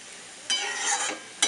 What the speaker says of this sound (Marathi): हे आता कांदा खोबरं भाजून झाले.